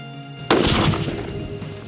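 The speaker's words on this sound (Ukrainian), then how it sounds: "Постріл." A single loud rifle shot fired while zeroing an optical scope cracks sharply out of near silence, then leaves a rough echoing tail that fades over the next second or so.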